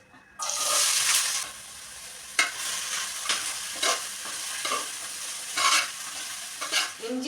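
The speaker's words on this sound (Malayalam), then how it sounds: "ഇഞ്ചി നല്ലോണം മൂത്ത് വന്ന് കോരി വെച്ചിട്ടുണ്ട്" Ginger fries in coconut oil in a bronze uruli, a hissing sizzle that surges loudly at first and then continues with repeated bursts of stirring and scraping, close up and without talk.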